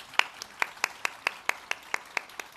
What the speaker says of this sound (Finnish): Nyt voidaan antaa vielä isot aplodit meidän upealle huolipaneelille